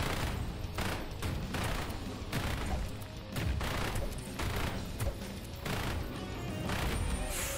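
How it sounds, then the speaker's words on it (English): A sentry gun fires in the roguelike game Repetendium, a steady rapid stream of shots pulsing evenly at moderate loudness with no voices. "Okay, got the sentry gun here."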